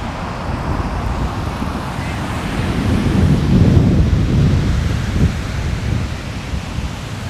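Surf rolls in steadily at Ketawang beach in Purworejo, Central Java, a broad continuous wash of waves mixed with wind buffeting the microphone and a faint hint of traffic, swelling slightly midway.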